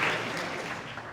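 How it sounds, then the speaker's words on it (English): Audience applause welcoming visiting students from Sicily at a school business pitch event, a steady dense patter of many hands clapping throughout the short stretch, fairly loud and close, with no talk. "A round of applause for welcome to you all."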